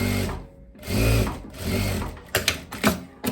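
A sewing machine stitches a seam on a loose batwing blouse, running in close, loud whirring bursts with brief pauses and a few sharp mechanical clicks at the end.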